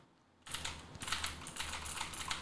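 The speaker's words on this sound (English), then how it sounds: "We're typing." Steady rapid clicking of keys typed on a computer keyboard, close and continuous after a quiet start, with no voices.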